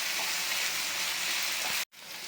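Ground coconut masala frying in oil for mango rice, a dense, even, loud sizzle held steady close by, with one brief dropout near the end.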